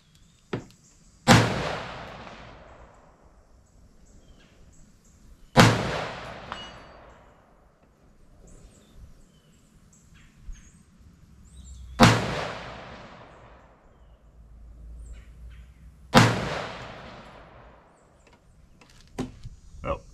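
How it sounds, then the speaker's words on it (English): Four loud rifle shots fired down range at a steady pace, each a sharp crack followed by a long rolling echo that fades before the next. "we'll put some shots down range on it"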